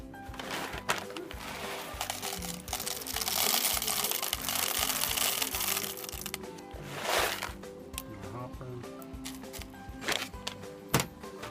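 A Briel two-group espresso machine's built-in coffee grinder runs with a steady, dense whirring drone that holds for most of the stretch, loudest in the middle, with a few clicks and knocks near the end.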